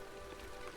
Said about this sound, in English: Oh, it's raining again.